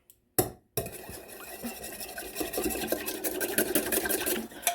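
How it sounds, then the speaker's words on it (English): An egg and milk whisked together in a bowl, a fast, steady scraping and clinking rhythm that starts after a brief knock and keeps going, close and fairly loud. "And we beat them together."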